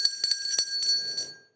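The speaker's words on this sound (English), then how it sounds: "Permit me, my colleagues, to ring the bell." A small hand bell is rung several times in quick, ringing strokes at a formal gathering, bright metallic tones sounding close before trailing off into a fading shimmer.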